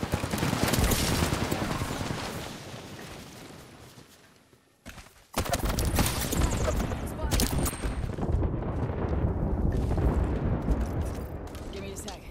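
Airstrike explosions in Apex Legends, a dense rolling barrage of loud blasts and rapid popping impacts that fade briefly, then a sharp break and a renewed heavy stretch of detonations and gunfire.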